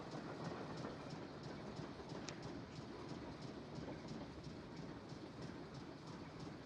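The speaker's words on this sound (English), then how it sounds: "Enjoy the ambient train noises." Steady rumble and rhythmic clickety-clack of a moving passenger train, an ambient in-game loop from the Nancy Drew game Last Train to Blue Moon Canyon, continuous and even throughout with no talking.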